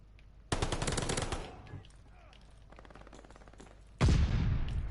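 Loud bursts of automatic gunfire in a multiplayer shooter, a long volley near the start, quieter scattered shots in the middle, then another heavy close burst near the end.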